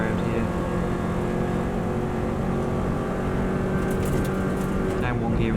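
Subaru WRX STI running flat out at full throttle around the Isle of Man TT course, a steady loud engine roar with road and wind noise throughout, a driver's voice talking over it.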